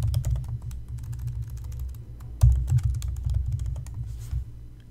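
Someone types steadily on a computer keyboard, with quick, close clicks of the keys over a low hum and no voice.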